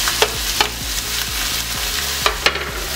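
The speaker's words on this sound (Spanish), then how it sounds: "Le vamos a poner un poquito de aceite y vamos a poner la carne." Ground beef frying in oil in a skillet, with a steady close sizzle and a few sharp utensil scrapes and clicks as the meat is pushed around.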